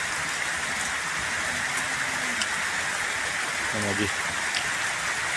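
Rain falling steadily after a long dry spell, a constant dense hiss of drops all the way through, with a brief voice speaking underneath.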